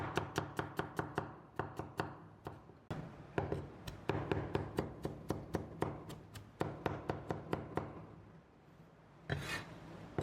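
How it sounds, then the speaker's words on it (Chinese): A knife chops garlic cloves into mince on a wooden board in quick, close, crisp runs of taps, pausing briefly between bursts and then resuming in a rapid rhythm. "准备把蒜籽给它切成蒜末，"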